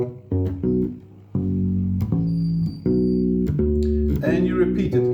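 A bass guitar slowly plays the opening riff of a song. Deep, sustained notes step through the repeating pattern with short breaks between them, played alone and up close.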